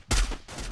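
Gunfire in the mobile battle game Free Fire: a quick burst of sharp shots, loud and close, lasting under a second.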